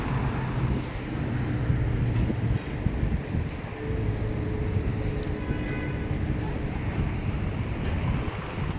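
Regular road traffic on Castle Street in Kingston, London, just after a green light: a continuous low rumble of passing cars with wind noise across the microphone.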